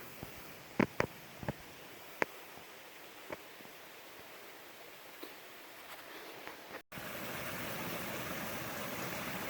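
Steady broadband rush of a creek and waterfall on Black Mountain runs throughout, with scattered rustles and small knocks in the first half, then a sudden louder, fuller surge of flowing water after a brief dropout.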